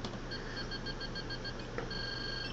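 A replica Sliders timer prop emits a run of short, evenly spaced electronic beeps, then a brief pause and a longer sustained tone, close and clear against a quiet hiss.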